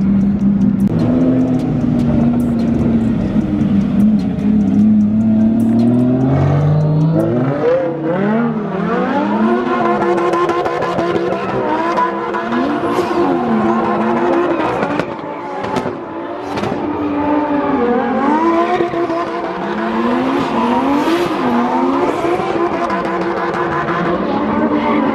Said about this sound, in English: they have this area, like a little drift area where everyone's doing burnouts and stuff.